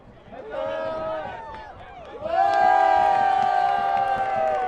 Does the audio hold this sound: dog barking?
no